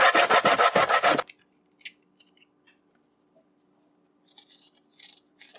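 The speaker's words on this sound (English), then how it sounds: "you want to grate your coconut on the fine side of your grater" Coconut is rubbed on the fine side of a grater in about six quick, rasping strokes, loud and close. Then it goes nearly silent apart from faint handling noises.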